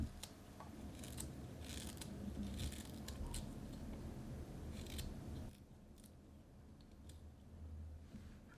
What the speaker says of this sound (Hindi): अदरक को छोटे टुकड़ों में काट कर डालते हैं।